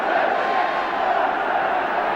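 Football crowd at a West Ham v Everton FA Cup semi-final, a steady, dense roar from a packed stadium that holds level throughout with no breaks.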